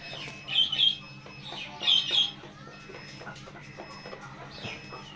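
Two loud squawks from farm-kept Egyptian parent chickens stand out near the start, followed by soft clucks and scattered chirps over a low steady hum.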